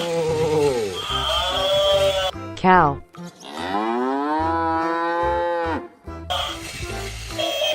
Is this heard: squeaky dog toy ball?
no